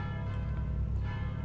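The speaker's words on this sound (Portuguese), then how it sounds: "Tocou o sino da missa aí, ó." A church bell in the video game Mon Bazou rings at noon with a sustained, resonant tone over a low steady hum, fairly loud and unaccompanied by voices.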